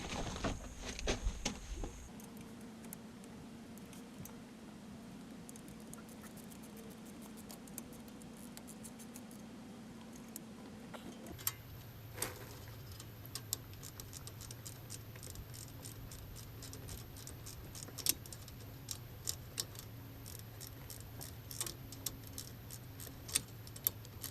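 A 13mm socket wrench ratchets while tightening the top and bottom brake caliper bolts on a 2016 Land Rover LR4, giving faint, quick ticking clicks in scattered bursts over a low, steady background hum.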